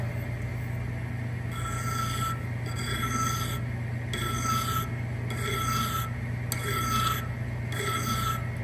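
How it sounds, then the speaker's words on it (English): A lathe file rasps against a spinning workpiece on a turret lathe while a chamfer is being formed, giving six or seven evenly spaced scraping strokes over a steady machine hum, close and moderately loud. "The lathe file."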